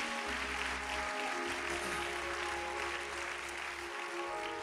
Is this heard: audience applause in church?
yes